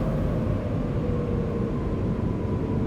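Steady, broadband jet roar of a Boeing 737 Max 8 at takeoff thrust in the X-Plane 11 flight simulator, a dense continuous rush heard alone with no voices.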